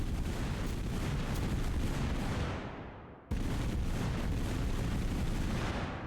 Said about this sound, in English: the bombardment does pierce through the ground, but I guess it doesn't go that far through it, as in the explosion doesn't